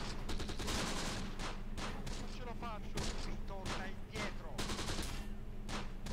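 Sustained gunfire and machine-gun bursts in the Close Combat war game, continuous rattling shots with occasional heavier reports under an Italian-accented voice calling out.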